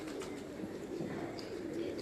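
Pigeons coo softly in a low, quiet murmur, faint against a steady background hiss, with no voices present.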